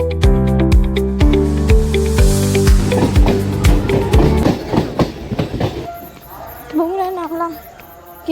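A train rumbles past at Ranaghat station with rhythmic clattering from the wheels, loud and close, then fades as a voice speaks briefly near the end.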